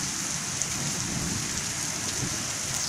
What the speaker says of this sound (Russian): Думаю, дайте я вам покажу, что у нас солнечный дождь.